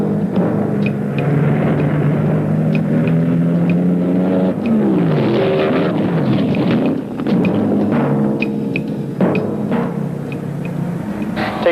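A 1974 funny car drag racer with a blown fuel Chrysler engine and fiberglass body at Beeline Dragway roars with heavy rumbling and revving, rising and falling in pitch, loud and continuous without speech.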